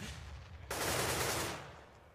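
Gunfire in a Counter-Strike match on the Mirage map: a sudden loud burst of automatic fire sustained for under a second of quiet ambience, then tapering off, with no voices.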